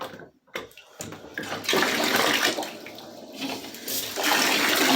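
Water rinses a cat during a bath, starting with brief gaps and splashes before a steady, close pouring and splashing flow takes over.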